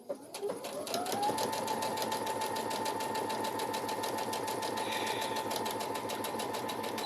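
A sewing machine runs up to speed and stitches a line of white thread along a girl's dress lining, making a steady, fast mechanical whir and clatter that stays close and continuous throughout, with no speech over it.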